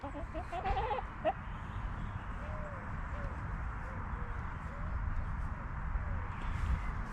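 A large rooster calls and clucks at a distance amid steady outdoor background noise at a campsite, with a faint voice and a brief clatter early on.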